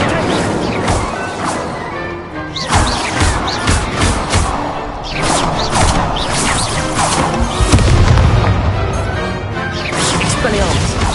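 Incendio, the fire spell in the Hogwarts Legacy video game, erupts in a series of loud crashing, crackling bursts with thuds, spread across a busy and steady game soundscape.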